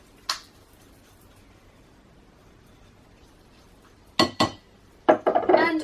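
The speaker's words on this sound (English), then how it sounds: "scraping down our cocoa powder bowl" Scraping and clinking of a utensil against mixing bowls and a plate of cocoa powder while preparing a gluten-, lactose- and yeast-free chocolate cake; one brief knock early, then a few sharp scrapes and clatters near the end, with a quiet pause between.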